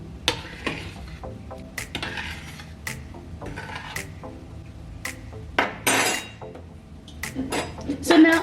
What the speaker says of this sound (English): I will put off the heat and I will stir them together just to get a little bit of flavor from each other